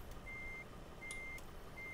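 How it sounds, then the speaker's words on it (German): Three evenly spaced electronic reversing beeps from a truck in Euro Truck Simulator 2, faint thin tones over a low steady engine hum, with no talking. "Ja, ich höre es auch ja, piepen."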